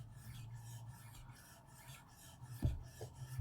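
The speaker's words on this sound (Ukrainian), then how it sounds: "де кінчик ножа не відривається від дошки, і вона працює, наче маятник" A wide kitchen knife rocks on a cutting board with its tip staying down, giving soft repeated rasping scrapes of the blade on the board, with a couple of sharper knocks near the end.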